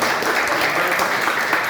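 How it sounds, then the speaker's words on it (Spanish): A classroom of students gives a short, loud burst of applause, many hands clapping together in a continuous roll for under two seconds. "Un fuerte aplauso para nuestro camarógrafo."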